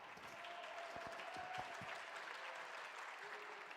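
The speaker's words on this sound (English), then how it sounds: "The crowd happy with their performance there" A crowd at the PUBG Mobile World Invitational esports event applauds in a steady wash of clapping and cheering that carries on throughout, fairly distant.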